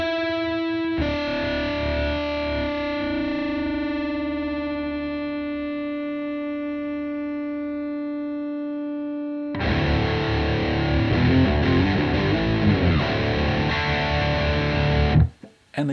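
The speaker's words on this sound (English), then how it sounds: "I just tuned my guitar back to standard E just to let you hear it one more time" An electric guitar run through effects and tuned to standard E lets a sustained chord ring loud and steady for several seconds, then switches to dense, distorted strumming with a wavering, modulated texture. No voices.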